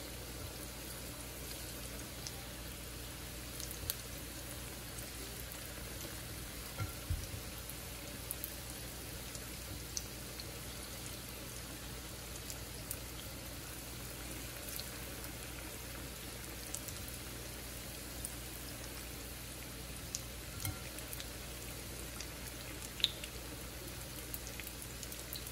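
Potato purée fritters frying in hot oil, a steady faint crackle and sizzle with scattered small pops, continuous and fairly quiet with no talking.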